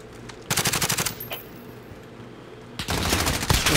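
Video game gunfire: rapid bursts of automatic fire in two loud volleys separated by a quieter gap, the second burst longer and continuing to the end.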